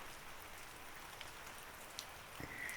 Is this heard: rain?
yes